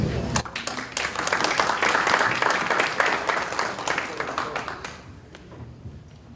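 Loud applause from a crowd, dense clapping that builds, holds for several seconds, then thins out and fades toward the end.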